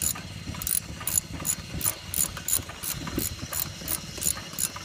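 A ratchet wrench clicks in a steady, close rhythm as a part is tightened on a Keene G Force impact mill, with faint mechanical hiss in the background.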